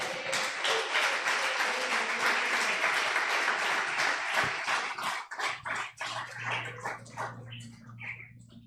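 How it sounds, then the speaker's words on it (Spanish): Congregation at a Christmas church service breaks into dense, sustained applause that fades after about five seconds into scattered claps and murmuring, with a low hum underneath. "¿Cuánto le dan aplauso al Señor por eso?"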